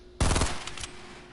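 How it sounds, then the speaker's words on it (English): P90 fire in the Fortnite video game, a short loud burst of rapid shots that fades quickly, close and alone with no talk. "Take a few shots with the P90, see if I can get him to peek on the side."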